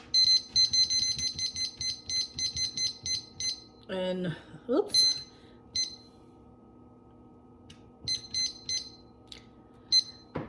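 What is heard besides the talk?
kitchen timer beeping while being set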